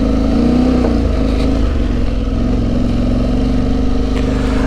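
KTM Freeride 350 trail motorcycle ridden off-road, a loud close engine holding a steady mid-pitched drone with slight rises and dips in revs, no talking.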